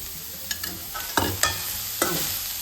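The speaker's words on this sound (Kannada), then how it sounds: "ಗಜ್ಜರಿ ಹಸಿ ವಾಸನೆ ಹೋಗೋವರೆಗೂ ಹುರ್ಕೋಬೇಕು" Grated carrot sizzles in ghee in a pan for carrot halwa, with a steady frying hiss broken by several sharp scraping stirs of a spoon against the pan, close and fairly loud, no voices.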